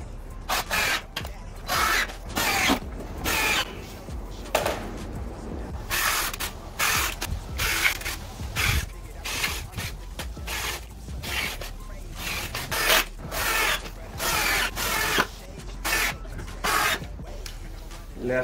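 Screws are driven into a 2x3 wooden base while an overhead garage shelf is mounted, heard as repeated close, sharp whirring bursts with short gaps between them.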